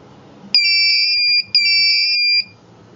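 A Picaxe 8M2+ battery management system sounds a power balance alarm when the second cell reaches its balancing voltage: two loud, sustained electronic beep tones, each lasting about a second with a brief gap between them, heard alone.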